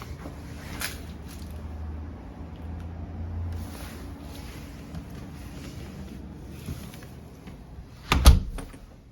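An apartment door leading to the fire exit opens with a sudden loud thud and clunk near the end, close by, after a stretch of quiet room noise.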